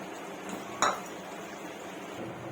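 A single sharp clink of a pot or utensil rings out as cooked brinjal and potato curry is dished out, with faint kitchen background before and after.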